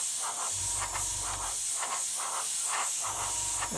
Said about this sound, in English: we can spray Mr. Cutter leveling thinners onto the grainy paint